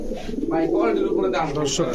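Khaki and Army Fat pigeons coo softly in low, throaty, rolling calls close by, while people talk nearby.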